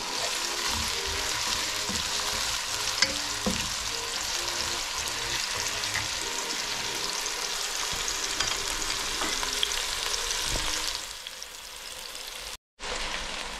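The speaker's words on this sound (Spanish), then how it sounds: "Cuando veamos que ya está frito el ajo, ahí le echamos la cebollita." Garlic and finely diced onion fry in a pan as the base of a chicken soup, giving a steady, dense sizzle with scattered pops and stirring scrapes throughout, dipping slightly near the end and cutting out briefly.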